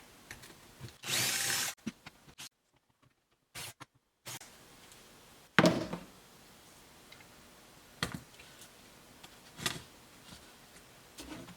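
A power drill bores into a wall to mount a pegboard, with one short loud burst of drilling near the start, then clicks, taps and handling noises, no talking.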